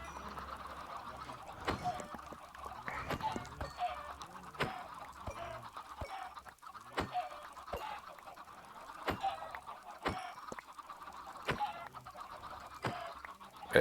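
Minecraft chickens cluck repeatedly around a growing flock on a farm, with soft scattered clucks and short calls spread across the scene at moderate distance and no talking.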